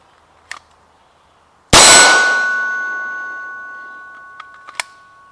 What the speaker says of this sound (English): whenever the round hits the metal down at the end of the range